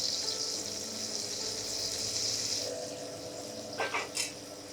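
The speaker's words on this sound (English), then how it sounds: "the tomatoes have softened, the onions are being caramelized beautifully" Tomatoes and onions frying and caramelizing in a pan for keema aloo, a steady close sizzle running throughout, with a couple of brief clinks or scrapes near the end.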